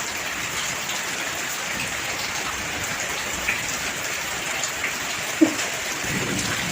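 Heavy rain pouring down while riding a motorbike, a dense, steady hiss close by with a couple of faint knocks and no one talking.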